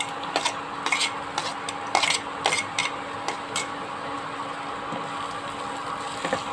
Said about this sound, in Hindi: अब हम इसमें डालेंगे हरी मिर्च